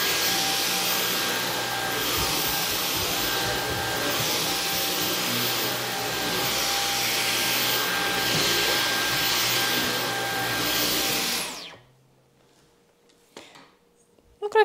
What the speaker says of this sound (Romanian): hai să dăm prima tură de aspirat cu noul aspirator